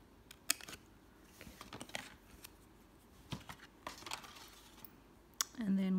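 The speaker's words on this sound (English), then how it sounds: "And it'd be easier to cut across from here." Scissors cut across a small piece of fabric for a miniature needle book, giving quiet snips and rustles close by, with a few sharper clicks near the end.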